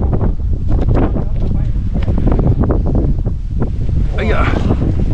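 Strong gusts roar across a mountain cliff on Lion Rock's south face, a loud continuous buffeting rumble with people talking and exclaiming over it.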